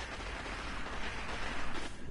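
A grenade blast in the video game Destiny, a broad rumbling burst that lingers briefly at moderate volume.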